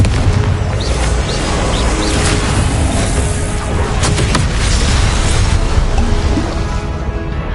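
A Confringo blasting spell cast in Hogwarts Legacy, a loud dense booming burst over continuous rumbling battle noise with scattered crackles and impacts throughout.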